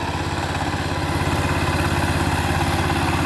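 Loud, nearby steady engine drone of a power tiller, an unbroken rhythmic chugging hum that holds at constant level the whole time, no voices.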